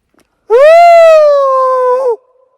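A single human voice imitates a howl, one sustained rising then gliding tone lasting over a second and a half, loud and close.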